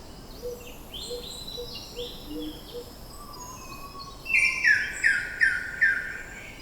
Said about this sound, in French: écoutez les chants des oiseaux de Papouasie